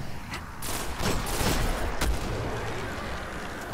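Sniper rifle shots in a video game fighting an ogre, a cluster of sharp gunfire cracks with booming tails over a steady rumbling game soundscape, loud and close.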